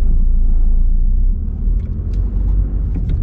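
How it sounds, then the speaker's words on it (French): A 2000 Volkswagen Golf 4 with a 1.9 TDI 115 diesel engine accelerating, heard as a steady low rumble from inside the car that dips briefly and then builds again, with no talking. "Là on peut l'entendre hein, à la moindre accélération. Le bruit est là."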